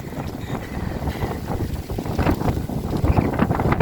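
Strong gusts of wind roar and buffet the microphone in a steady, rumbling rush, with faint water and boat noise underneath.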